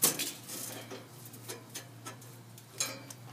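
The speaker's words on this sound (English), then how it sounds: "Put the grate in." A metal grate set into a Komodo Kamado ceramic grill gives a series of light metallic clinks and taps, several brief knocks spaced irregularly over a steady low hum, with no talking.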